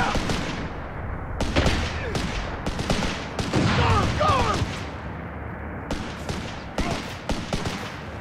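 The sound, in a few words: rifle grenade and gunfire in the video game Company of Heroes 3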